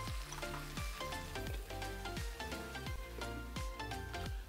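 Noodle sauce simmering and cooking down in a covered pan, a steady close sizzle and bubble with soft rhythmic pops and clinks running through the whole stretch, no talking.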